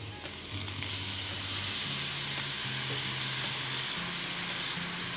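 Sugar and a few spoonfuls of water heating in a pan for caramel give a steady, close sizzle and soft hiss, continuous and fairly quiet, with faint background music.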